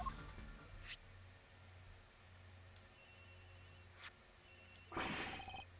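In the Ace Attorney Investigations video game, a phone rings in short repeated bursts, fairly quiet against a faint background hum, with no talking.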